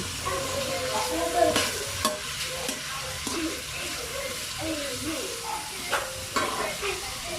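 Vegetables for lumpiang gulay, including jicama, are stirred in hot oil in a pan, giving a continuous sizzle under repeated scraping and clinking strokes of a utensil, near and moderately loud.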